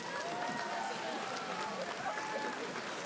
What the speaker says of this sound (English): So a round of applause for him.